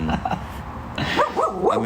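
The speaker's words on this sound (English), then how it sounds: "that's my dog, sorry." A dog barks and yips nearby during an indoor interview, a few quick barks in a short burst, heard alongside background noise.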